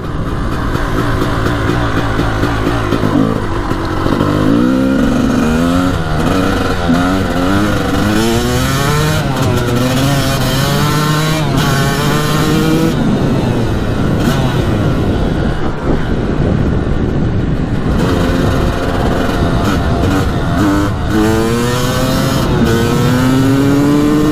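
A mint Honda CR250 two-stroke dirt bike screams through repeated revs and gear changes while being ridden, loud and close, pitch rising and falling in waves with no speech.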